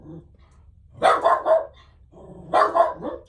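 A dog barks close by in two short bursts of several quick barks each, separated by a pause, with a low murmur in between.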